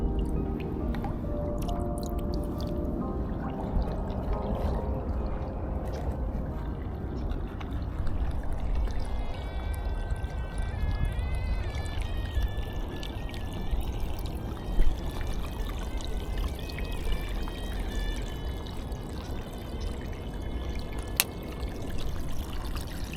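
Creek water pours and gurgles steadily into a container, a continuous trickling and splashing stream with small drips, moderately close and with no one talking.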